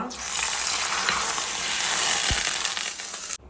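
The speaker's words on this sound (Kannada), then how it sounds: "ಒಳ್ಳೆ ಕಂದು ಬಣ್ಣ ಬರುವವರೆಗೆ ನೀವು ಇದನ್ನು ಫ್ರೈ ಮಾಡಬೇಕು" Steady, close sizzling of crushed garlic frying in hot oil until brown, a bright crackling hiss throughout with a faint stir near the end.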